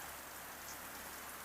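Steady rain pours down on a village street near a community health clinic, a dense, even hiss of drops on surfaces with no voices, constant throughout.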